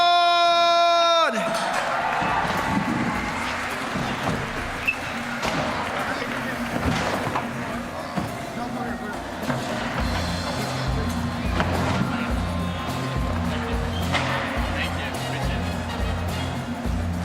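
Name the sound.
crowd cheering for a skater at a competition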